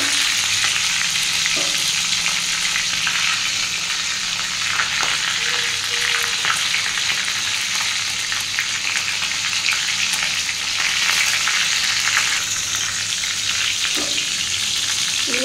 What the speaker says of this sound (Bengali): মাছের মাথাটা ভালো করে ভেজে নেব।